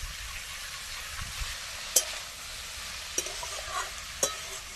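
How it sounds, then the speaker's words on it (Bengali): Pumpkin flowers frying in mustard oil with nigella seeds, green chilli and chopped tomato, giving a steady low sizzle with a few sharp clicks of stirring against the pan. "এবার কেটে রাখা কুমড়ো ফুল দিয়ে দেবো"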